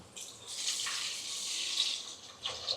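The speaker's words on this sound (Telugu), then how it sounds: "ఈ చింతపులుసుని దీంట్లో వేసుకుందాం" Tamarind juice pours into a frying pan of fried gram flour dumplings as a quiet, steady liquid splash lasting a few seconds.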